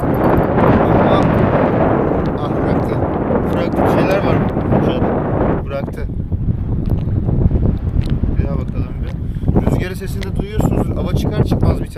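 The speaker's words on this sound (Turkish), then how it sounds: "Ama hava çok fazla rüzgar artmaya başladı" Strong wind off the coast at Kuşadası buffets the microphone in heavy, continuous roaring gusts during belly boat fishing, with a voice faintly audible beneath the rumble.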